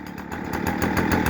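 A chainsaw runs steadily, a loud, rough buzzing engine drone with a slight pulsing rhythm and a gradual rise in intensity.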